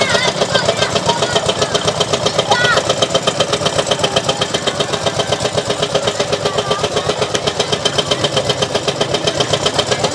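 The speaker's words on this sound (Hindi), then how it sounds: "इंजन स्टार्ट हो चुका है इसका।" A fairground swing ride's engine idles loudly and close by, a steady rhythmic mechanical chugging with regular pulses that holds unchanged for the whole stretch.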